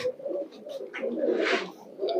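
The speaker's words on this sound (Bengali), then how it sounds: "এই যে এগুলো সব বাঘা কবুতর" Several Bagha pigeons coo in a short, close burst of soft throaty calls, with a brief rustle midway and no talking.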